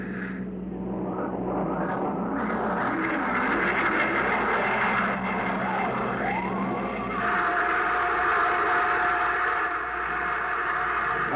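A rocket engine blast sound effect in a radio drama roars loud and continuous, with shifting tones and a swelling rush partway through, alone without voices.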